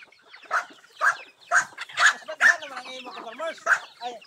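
Chickens on a small farm cluck in a steady series of short, close bursts, roughly two per second, with some softer chatter and calls between them.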